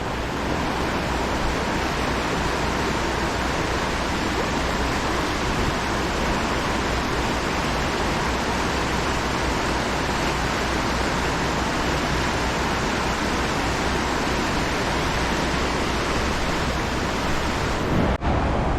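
High-flowing mountain river near Gatlinburg, Tennessee, rushing over a flooded walkway, a loud, continuous broadband roar of water heard up close with no talk.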